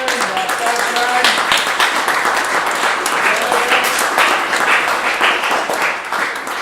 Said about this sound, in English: quick clap for that